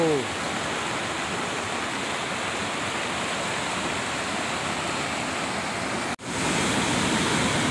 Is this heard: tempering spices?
no